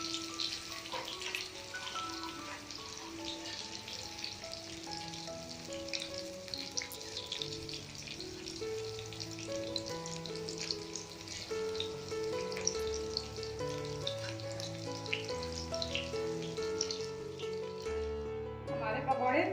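Paneer pakoras frying in hot oil and being turned over to cook the other side, a continuous crackling sizzle with bubbly spatter throughout, under a tonal background of music.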